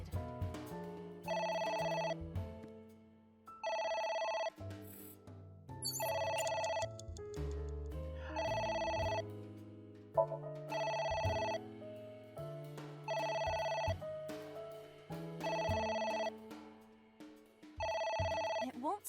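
A telephone rings repeatedly in AI: The Somnium Files, bursts of bright electronic ringing spaced by short gaps over a low musical backdrop, with a voice speaking faintly underneath.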